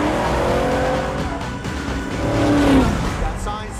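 A gray 1967 Ford Mustang races through a film police chase, engine revving and tires squealing briefly as it takes a turn, loud and close under a busy traffic-and-score mix.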